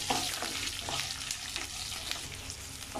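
Green chillies and garlic sautéing in oil in a pan for Tamil paruppu chutney, a steady close sizzle and fry crackle with faint stirring scrapes throughout, no talking.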